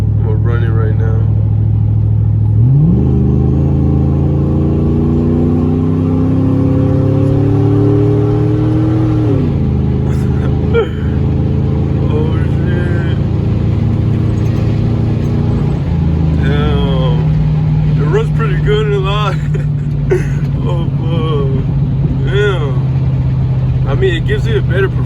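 A car engine runs steadily after being fitted with Edelbrock Max-Fire Elite performance spark plug wires, revving up and settling back twice to a loud, close, even idle rumble, with someone talking over it.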